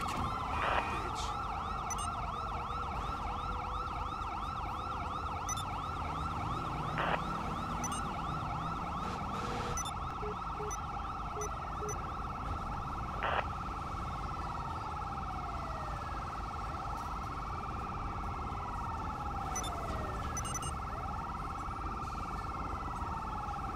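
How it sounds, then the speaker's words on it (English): A police car siren in GTA V wails steadily and loudly throughout, its rising and falling sweeps running continuously, with brief voices from players over it. "Who still has the siren on?"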